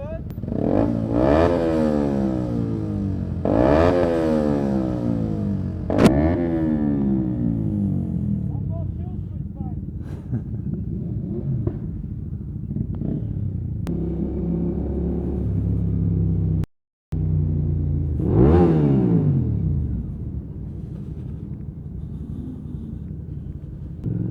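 Loud motorcycle engine revving repeatedly with rising and falling roars, close by amid London street traffic rumble, with people talking over it.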